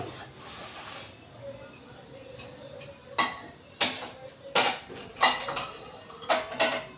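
Dishes, pots and pans being washed by hand in a home kitchen, with clattering knocks and clinks of utensils coming in irregular bursts, growing louder and more frequent toward the end over a faint background hum.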